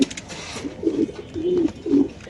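Nun pigeons coo softly at a pigeon market, three or four low rolling coos in quick succession, close by and alone.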